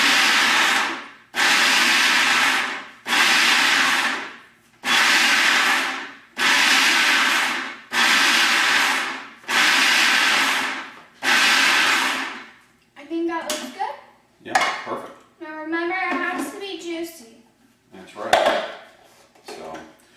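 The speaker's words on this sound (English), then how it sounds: "Kaitlyn's gonna go ahead and do pulsing the tomatoes" A blender pulses fresh Roma tomatoes for chunky salsa in seven even bursts of roughly a second each, separated by short pauses, followed by people talking.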